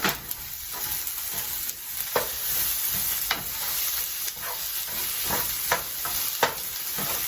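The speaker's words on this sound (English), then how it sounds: "I'm going to add the onion and the tomato. And mix it in there a little bit." Onion and tomato stirred into rice frying in a pan for Mexican rice, giving a continuous hissing sizzle broken by repeated scraping and stirring strokes, close and fairly loud with no talk.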